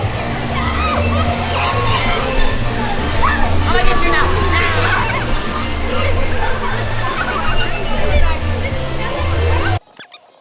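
A child splashes in pool water at a family resort, steady loud sloshing and splattering up close for several seconds with excited voices over it, then cutting out abruptly.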